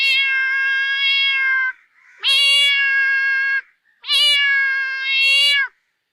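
A person imitates a cat meowing with three long, drawn-out, whining meows, each ending before a short gap, loud and close.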